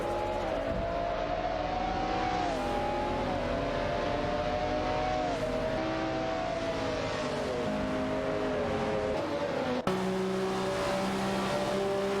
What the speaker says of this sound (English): the McLaren F1 LM, and the Pagani Zonda C12 are now in a fierce duel for the 15th position